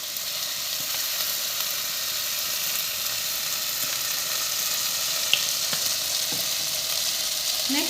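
Mushroom Manchurian frying in a pan with green and red chili sauces, a steady close sizzle with faint stirring clinks and a soft scrape near the end, no talking.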